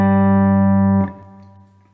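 Electric guitar sounding the 6th and 4th strings together in a riff, a sustained buzzing two-note chord held for a second, then cut short and fading into a faint ring.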